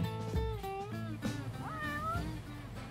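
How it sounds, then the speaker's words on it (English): A stray cat in the Yakuza 6 video game meows repeatedly, several short tonal mews with rising and falling pitch, close and clear over faint background ambience. "Now we can find cats in the wild."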